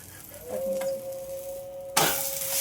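Oil sizzles around a thalipeeth made from leftover gargatta frying on a pan, starting as a low crackle and then surging into a loud burst of frying as more oil goes in, over a steady faint tone.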